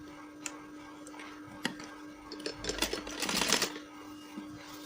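A sewing machine stitching a salwar onto its waistband, quiet at first with scattered ticks, then a short dense run of rapid clattering stitches before easing back to a low hum.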